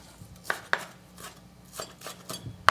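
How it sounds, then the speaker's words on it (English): A kitchen knife chops scallions on a long angle against a cutting board with a handful of sharp, separate taps at an uneven pace, close and fairly quiet. "So the scallions I'm going to do on a long angle, I've always been impressed with your chopping."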